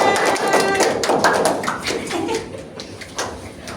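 Classroom applause after a student drama and theater performance during a teaching session, a dense burst of many hands clapping close by that stays steady then thins toward the end.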